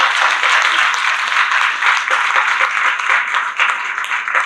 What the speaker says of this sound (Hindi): उन सभी के लिए जोरदार तालियां।